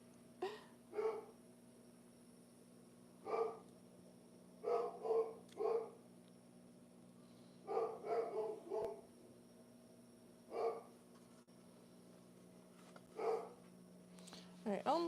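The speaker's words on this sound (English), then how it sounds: "dog's going crazy. Must be getting a package." Dog barking indoors near a wood shop, several short bursts of barks in clusters of two or three, somewhat distant over a steady background hum.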